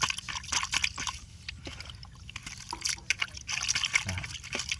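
Water sloshes and trickles in a container as fishing bait for large tilapia is rinsed, with uneven splashes and drips throughout, close and moderately loud, with no talking.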